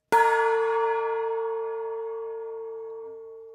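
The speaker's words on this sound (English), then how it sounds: "will somebody ring the damn gong already?" A single gong stroke rings out at a hotel speed dating event, a bright metallic strike that hums on and slowly fades over several seconds, with nothing else heard.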